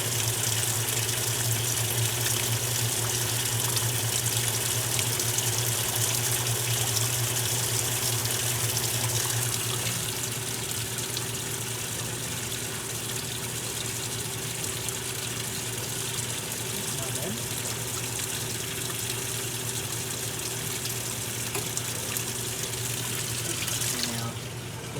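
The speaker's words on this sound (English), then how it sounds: "This one is beginning filling for the rinse" A Maytag washing machine fills for its rinse cycle, water gushing and rushing in a loud, steady stream under a low mechanical hum that barely changes throughout.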